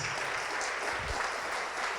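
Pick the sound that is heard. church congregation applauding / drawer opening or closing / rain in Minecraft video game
church congregation applauding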